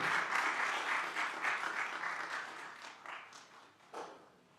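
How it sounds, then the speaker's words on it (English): Applause from an audience at a gift ceremony, a full sustained round of clapping that gradually thins and softens, with a few scattered claps near the end. "mark with applause"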